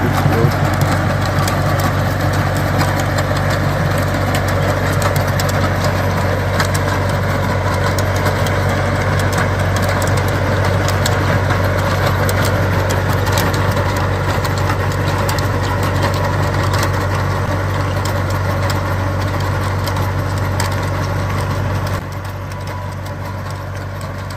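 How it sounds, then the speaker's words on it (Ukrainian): A tractor engine idles steadily and close by in a strawberry field, a continuous low rumbling drone that drops slightly in level near the end. "Ось такий у нас трактор."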